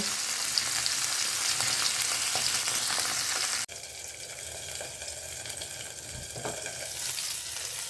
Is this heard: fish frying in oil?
yes